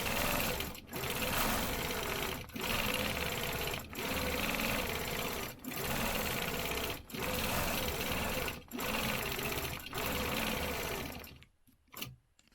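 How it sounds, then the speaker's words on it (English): A sewing machine stitches through a stencil in a close, loud, fast steady hum, broken by about eight short pauses as the fabric is turned, then stopping near the end. "So let me go ahead and stitch those real quick."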